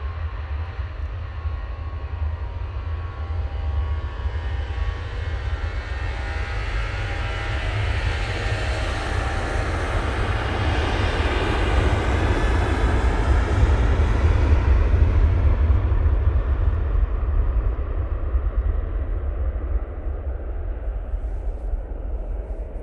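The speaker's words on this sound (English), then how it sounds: "Ryanair going to Dublin using the 737-800." A Ryanair Boeing 737-800 departs snowy Manchester Airport for Dublin, its jet engines building into a long, loud roar that swells mid-way and slowly fades, with no voices.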